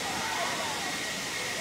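Waterfall where a music video was filmed, heard as a steady broadband rush of falling water close by, with faint voices and whistling tones over it.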